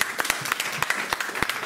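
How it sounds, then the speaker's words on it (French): An audience applauds at a talk event, a mix of crowd clapping with individual sharp claps standing out, moderately loud and continuous. "on peut l'applaudir bien fort"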